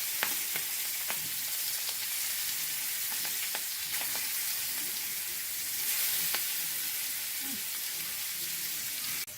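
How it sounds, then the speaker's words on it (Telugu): Scaled fish frying in a pan, a steady close sizzle with scattered crackles and pops running throughout, with no talking. "తోమిన చేపలు ఇప్పుడు ఫ్రై అవుతున్నాయి"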